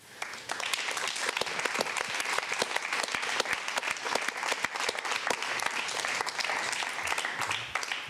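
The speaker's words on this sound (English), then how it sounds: "perhaps a round of applause" An audience at a European literature evening claps steadily for about eight seconds, a dense, even patter of many hands at a moderate distance.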